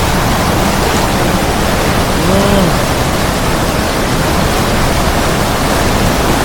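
Ethipothala waterfall in Zaheerabad roars with a dense, unbroken rush of falling water, loud and steady throughout.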